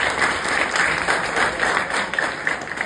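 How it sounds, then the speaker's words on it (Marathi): An audience at a talk on rational thinking gives a burst of dense, steady applause, many hands clapping at once and fairly close, for a few seconds with no voices on top. "टाळ्या हरीसाठी"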